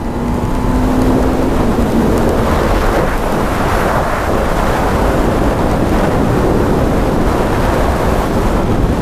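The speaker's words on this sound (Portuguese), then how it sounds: "tá ventando tanto que a moto chega tá indo pro lado" Strong wind buffets the microphone during a ride on a motorcycle with its exhaust removed, a loud continuous roar with a faint engine tone fading out early on, and no voices.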